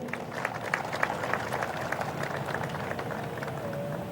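An audience applauding laborers with a steady patter of hand claps that continues evenly throughout, moderately close.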